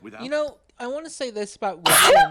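A single sharp sneeze bursts out near the end, loud and close, following stretches of someone talking.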